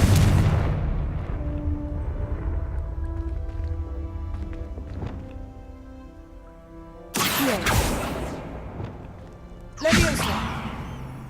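Two sharp explosive blasts from a fire spell in the wizarding game Hogwarts Legacy, each a loud burst with a trailing roar, following a stretch of rumbling game ambience.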